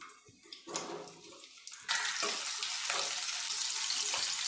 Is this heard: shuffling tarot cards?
no